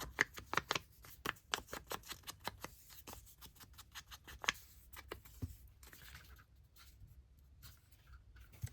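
Paper handled while making mini file folder storage crafts, with close crinkles, rustles and quick brushing strokes in a rapid irregular series that thins out toward the end.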